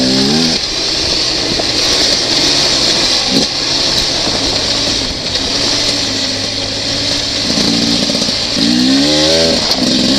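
A Beta 300RR two-stroke dirt bike runs in sixth gear at about 46 miles an hour during break-in, with a steady close engine drone under rushing wind and a few brief revving swells near the start and end.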